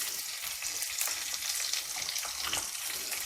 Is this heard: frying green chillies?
yes